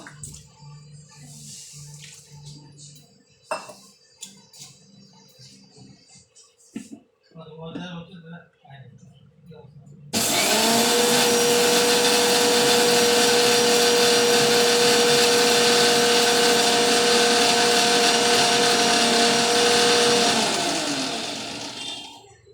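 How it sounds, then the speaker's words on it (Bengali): A kitchen mixer grinder powders puffed rice (muri), starting abruptly as a loud, steady, high-pitched whirring roar that runs for about twelve seconds before winding down; quieter kitchen sounds and talk come before it. "পুরোটা মুড়ি গুঁড়ি করে নিলাম। আমার মিক্সির কাজটা হয়ে গেছে।"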